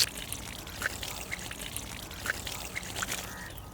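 Saffron milk poured over layered Hyderabadi mutton dum biryani, a soft liquid trickle and dribble with light splashy ticks, fairly close and quiet, with no voices.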